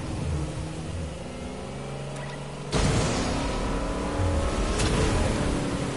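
A motorboat engine in a video game, a steady loud droning hum that jumps in level partway through as the throttle opens, running continuously without talk.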